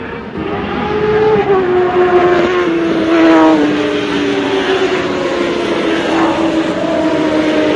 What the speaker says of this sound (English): Racing motor.